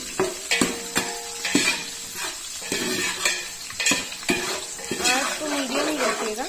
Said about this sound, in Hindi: अदरक और जो मिर्ची है इसको फ्राई करेंगे।